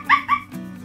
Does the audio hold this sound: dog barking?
yes